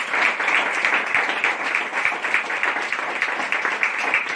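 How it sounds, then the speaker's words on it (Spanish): Loud, sustained applause from a church congregation, a dense patter of many hands clapping at once without a break. "Denle otro aplauso fuerte al Señor"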